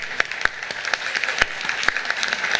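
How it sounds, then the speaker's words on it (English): Audience applauding competing teams at a scientific day event, a steady, moderately loud round of clapping with a few sharper, louder claps standing out throughout. "Clap for all teams, please. Clap harder."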